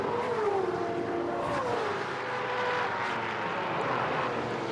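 Touring Car Masters race cars lapping the Bathurst circuit on a final lap, a continuous loud engine roar with shifting pitch as cars pass, steady and dense throughout.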